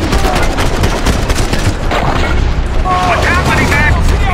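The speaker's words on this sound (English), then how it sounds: "This man throwing grenades, man." Loud, continuous barrage of grenade blasts and heavy booms in Max Payne 3 combat, mixed with gunfire, dense and unrelenting throughout, with voices talking over the din.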